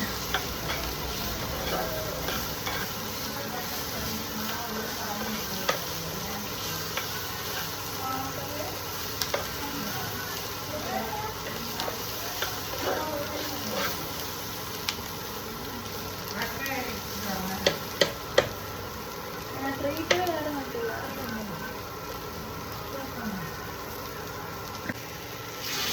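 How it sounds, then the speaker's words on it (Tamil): Tomato being stirred and fried in a pan for a curd curry, with a continuous sizzle and repeated scraping and clinking of a spoon against the pan, along with occasional background noises. "அதுக்கப்புறம் டொமேட்டோ போட்டு நல்லா மிக்ஸ் பண்ணிடணும்."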